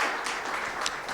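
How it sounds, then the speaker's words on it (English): Applause from the audience for the panelists at a national housing affordability summit, a brief, steady wash of clapping heard fairly distant throughout. "Let's give a round of applause to the panelists."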